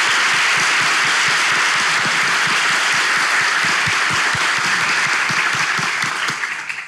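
A studio audience on a Turkish TV relationship quiz show claps loudly and continuously for nearly seven seconds, a thick, steady roar of hands that fades away at the very end.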